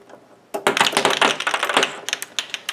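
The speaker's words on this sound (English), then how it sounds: "You just turn this right here and it's going to fire." A LEGO Bionicle Protector of Jungle rapid stud shooter fires plastic studs in quick bursts of sharp clicking and clattering, a rapid close rattle with scattered ticks as studs land, no voices.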